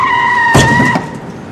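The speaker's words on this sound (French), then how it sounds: "Nicolas n'a pas le temps de freiner et percute la voiture de devant" A car in a tunnel failing to brake in time and hitting the car ahead, a steady engine tone with a squeal, then a short loud thud of impact that fades.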